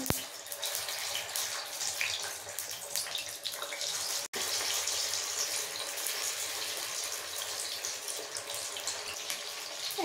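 Chicken pieces for chilli chicken dropped into hot oil, giving a loud, steady, close sizzle and crackle that runs throughout with one brief break early on; no voices.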